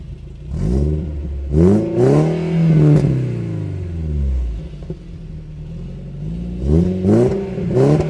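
A 993 GT2 style Volkswagen Beetle accelerates through several gears on a test drive, each pull a rising engine note followed by a drop at the shift, loud and close, with no voices.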